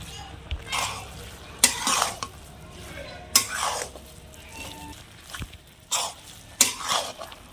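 Carrot halwa simmering in milk with bay leaf is stirred in a pan, with repeated bursts of spoon-scraping strokes and soft bubbling between them.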